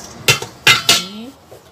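Broccoli being chopped on a board: three sharp knife strikes spaced apart, close and crisp, with a brief voice-like tone between them.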